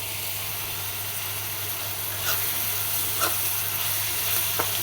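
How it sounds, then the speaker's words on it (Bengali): Onion frying in a pan for a shrimp bhuna gives a steady, close sizzle with a constant low hum underneath, broken by a few brief scrapes or stirs. No one speaks. "পেঁয়াজ হালকা ব্রাউন হয়ে যাচ্ছে।"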